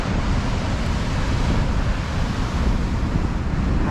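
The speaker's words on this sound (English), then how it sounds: "They always say down here the waves is big, and you know what? Today they are big." Continuous roar of big surf and wind at Tullan Strand, Bundoran, County Donegal, a dense broadband rush with no distinct breaks, steady and fairly loud throughout.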